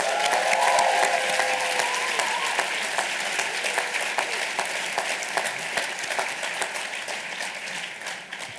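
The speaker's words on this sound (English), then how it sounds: "One more round of applause for Dr." A large audience at a Harvard Medical School class day ceremony gives a sustained round of applause after a speaker, dense clapping that slowly tapers, with a faint voice briefly at the start.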